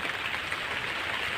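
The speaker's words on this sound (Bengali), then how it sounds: "আবার বৃষ্টি এসে গেলে" Steady rain hisses evenly on a surface, a continuous dense patter with no pauses.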